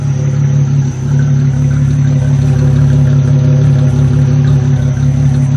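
A Volkswagen VR6 engine running steadily after a compression test, a loud close idle with a constant low hum and a thin high whine, no clear misfire, with no one talking.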